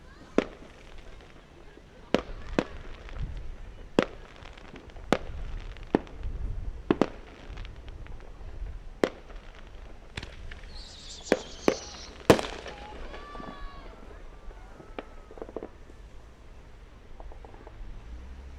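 A Fourth of July fireworks display in Moorhead, Minnesota in 2021 pops and booms at a distance in sporadic single bursts with gaps between them. A crackling flurry comes near the middle, and the ambience suggests an outdoor crowd.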